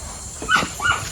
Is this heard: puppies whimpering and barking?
yes